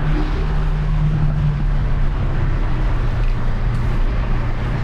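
A Porsche 718 Boxster T with a small 2.0-litre engine runs steadily with a loud, continuous low drone and no break across the whole stretch.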